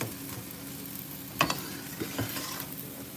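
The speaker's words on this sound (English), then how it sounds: "Let's get those onions to get nice and translucent." Onions sizzle quietly in a pan, with a few sharp scraping clicks as they are stirred and pushed around, the hiss staying soft and steady throughout.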